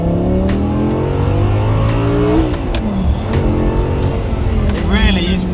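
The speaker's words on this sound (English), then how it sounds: "It really is brutal when you get it to the top of those rev ranges, isn't it?" An Audi R8 V10 engine revs hard under acceleration toward the top of its rev range, with rising and falling harmonic sweeps. The roar is loud and continuous from inside the car, with occasional voices mixed in.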